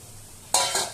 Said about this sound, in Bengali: আমি তো এবারও আরেকবার নাড়াচাড়া করে নিচ্ছি